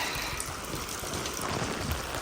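Steady, dense rainfall hisses continuously with scattered drops pattering on surfaces nearby, loud and unbroken.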